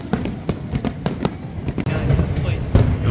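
Fireworks over downtown Aomori during the Nebuta Festival, a rapid string of sharp bangs and pops at varying distances, mixed with crowd noise and talk nearby.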